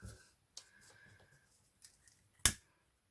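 Scissors snip off excess ribbon while making a hair bow, a few quiet, sparse cuts and clicks with one sharper snip near the end.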